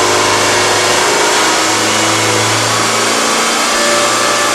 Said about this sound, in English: Now to shut down the engine, follow the procedure like this way.